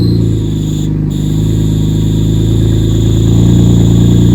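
Turbocharged engine of a Mitsubishi GTO after a transmission swap runs steadily with the clutch engaged, a loud, continuous low drone with a faint high whine on top and no voices.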